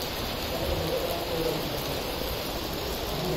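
Steady rain falling along the Tarakote route of the Mata Vaishno Devi yatra, a dense unbroken hiss of drops with no pauses, filling the whole moment at an even level.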